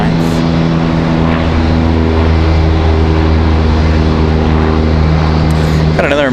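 American Airlines plane at RDU (Raleigh-Durham) airport, a loud constant engine drone with steady low tonal hum and rushing noise, with a voice speaking over it.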